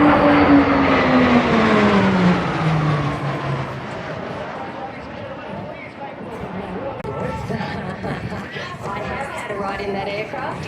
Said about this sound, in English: the PC-21 is our all-through trainer